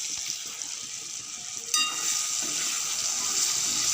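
Chopped ginger hits leftover fish-frying oil in a pan and sets off a steady, bright sizzle that jumps louder partway through and keeps crackling close by, with no talk.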